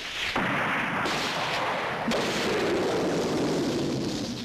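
Gunfire and artillery bursts in an animated war scene meant to accustom a horse to shooting: loud, dense booms and cracks, one blast after another with no pause.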